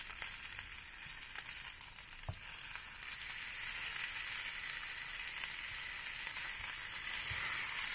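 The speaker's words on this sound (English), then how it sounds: "they're almost seared on all sides" Beef short ribs sear in a hot pan with a continuous bright sizzle and crackle, steady and close, with an occasional knock as the meat is turned.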